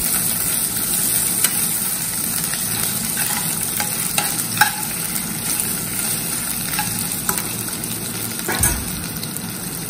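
Whole cloves, cinnamon, ginger and green chillies sautéing in hot oil in a pan, a loud continuous sizzle broken by repeated scraping stirs and sharp spoon taps, close by and with no talk.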